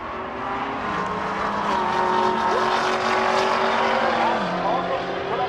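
Roaring engines at a drag strip at Rocky Mountain Race Week 2023 as a nitrous-assisted diesel BMW lines up against a 2023 Camaro, a loud sustained drone with rising and falling pitch, under a commentator's voice.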